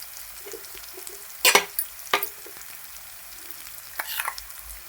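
Liver sizzles steadily in a hot pan, with a few sharp scraping stirs of the spoon breaking through the low, constant frying hiss; no talking.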